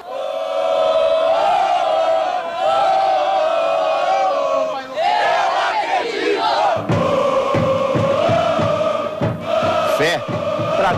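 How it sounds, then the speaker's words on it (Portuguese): Thousands of Fluminense supporters chant in chorus at Laranjeiras on the day of the Libertadores final, a loud sustained crowd song with rising and falling melodic lines and rhythmic shouts filling the whole stretch. "Quem passava rumo ao ônibus ouvia o coro que durou o dia todo"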